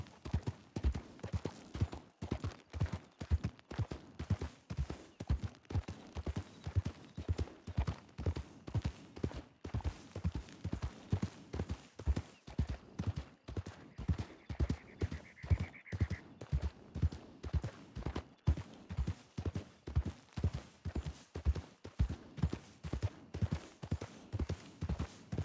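Horses' hooves clip-clop in a steady, even rhythm throughout, close and continuous, as riders move their mounts slowly along in the WildRP role-play game, with a brief faint tone partway through.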